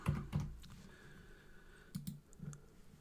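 A computer keyboard being typed on while entering an angle value in FreeCAD, a few short bursts of quiet clicks with pauses between them, no voices.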